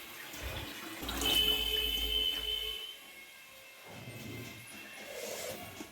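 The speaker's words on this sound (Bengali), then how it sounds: "কলটা খোলা রয়েছে কী জন্য দেখতে হবে" Water runs from an open tap in a home kitchen, a soft, continuous splashing rush that swells for a couple of seconds, then fades and returns more faintly.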